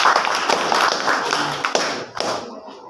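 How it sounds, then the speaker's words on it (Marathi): Junior college students clapping together in a classroom, a dense burst of claps lasting a couple of seconds before thinning into a few scattered taps and quiet. "टाळ्या वाजवायच्या सगळ्यांनी, टाळ्या वाजवा."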